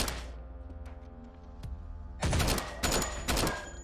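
Enemy gunfire in the shooter HYPERVIOLENT comes as loud bursts of rapid shots over a steady droning hum, with a single sharp crack first and then heavy volleys in the last seconds.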